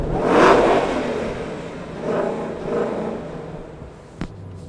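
A 2020 Shelby GT500 with a 2.65-liter supercharger is revved three times in close succession, each a loud rising roar with a faint whine, followed by a quieter idle and a brief metallic click near the end.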